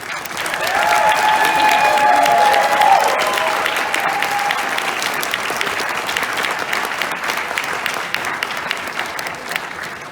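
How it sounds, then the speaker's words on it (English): Convention audience at Anime Detour 2019 applauding the staff, a loud sustained round of clapping with some cheers that gradually tapers while continuing to the end. "If you would please give my staff a round of applause"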